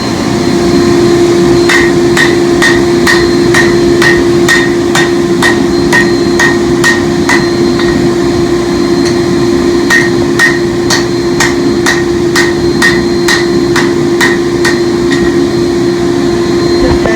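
A hammer forges a northern plains tomahawk on an anvil, ringing out in two runs of rapid, evenly spaced metallic strikes over a loud constant blower-like roar.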